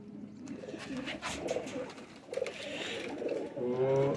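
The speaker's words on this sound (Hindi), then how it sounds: "ऐसे ज़बरदस्त फिरोजपुरी कबूतर है।" Ferozpuri pigeons cooing close by, soft repeated throaty coos in uneven bursts with light rustling, quiet and without talk.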